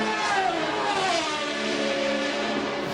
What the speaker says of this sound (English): Grand Prix motor racing